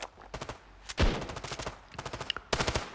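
Desert Eagle pistol fire in the mobile shooter Standoff 2 during a competitive match: sharp game gunshots crack in uneven clusters, several close, punchy reports over a couple of seconds, with a heavier thump midway.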